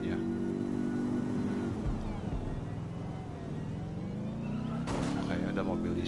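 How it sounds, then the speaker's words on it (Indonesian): A car engine in the video game Watch Dogs Legion gives a smooth, steady hum that holds for several seconds. There is a brief brighter burst near the end. "Mulus gini suara mesinnya."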